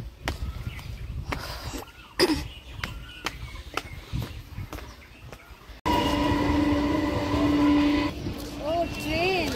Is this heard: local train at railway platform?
yes